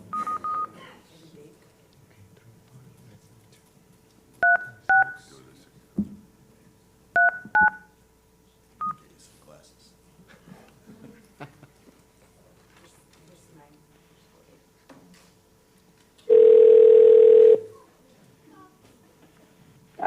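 Telephone dialing during a remote meeting: scattered short touch-tone beeps in several quick clusters over quiet background hum, then a loud steady tone of about a second, with people talking faintly.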